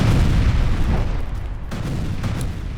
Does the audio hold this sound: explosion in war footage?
yes